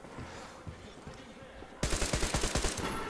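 A rapid burst of automatic gunfire from a gun in the video game Metro Exodus, sharp repeated shots in the second half, following quieter low thumps and game noise.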